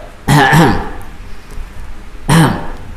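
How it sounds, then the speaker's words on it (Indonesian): Two separate bursts of throat clearing, deliberately demonstrated by a man during a religious lesson on bathroom etiquette. The bursts are close and fairly loud over a faint room background. "Tanahnu itu berdehem."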